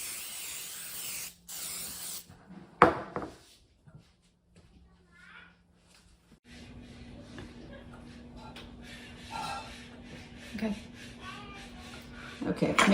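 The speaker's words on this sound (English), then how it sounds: "spray the tops with baking spray to keep them soft" Baking spray is spritzed onto the tops of bread rolls in short hissing bursts, one early and one at the very end. Quiet voices and kitchen shuffling fill the gaps between them.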